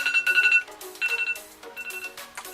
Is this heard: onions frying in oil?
no